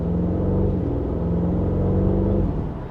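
A 2025 Porsche Cayenne S with its 468 hp V8 accelerates, its exhaust giving a steady, moderately loud rumbling drone with a rising engine note that eases off near the end.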